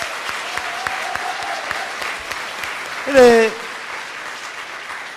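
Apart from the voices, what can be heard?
church congregation applauding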